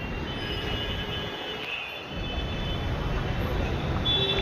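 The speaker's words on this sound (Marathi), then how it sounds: "आणि हे आहे आपलं मेट्रो स्टेशन" Ambient rumble inside Mumbai's first underground metro station, a steady broad wash of rail and station noise with a brief dip near the middle, moderately loud and continuous with no talking.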